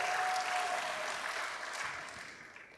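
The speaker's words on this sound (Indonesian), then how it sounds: "Berikan saya tepuk tangan bagi Tuhan." A church congregation applauds in praise of God during a sermon, a dense wash of clapping that starts loud and gradually thins and fades over a few seconds, with no voices over it.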